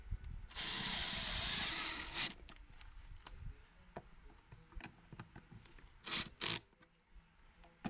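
Power screwdriver driving small screws through anchors to mount a Hunter X2 irrigation controller, a loud whirring burst of about a second and a half followed by several short clicks and taps, then two more brief bursts.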